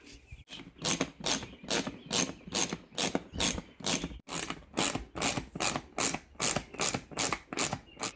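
A ratchet removes bolts from a zero-turn mower's seat pan, giving steady, evenly spaced bursts of clicking strokes at close range, repeating about twice per second with no talk.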